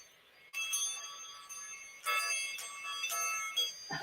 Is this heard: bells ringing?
yes